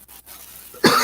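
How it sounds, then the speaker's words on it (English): A single harsh cough bursts out close by near the end, after a stretch of quiet room tone. "I see you got a nasty cough"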